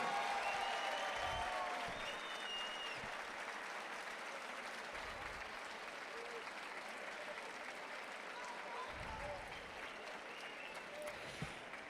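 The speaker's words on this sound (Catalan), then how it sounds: "Un fort aplaudiment." Audience applauding at the announcement of the 2023 Moros i Cristians festival in Pego, steady crowd clapping that fades slightly over time, with light voices mixed in.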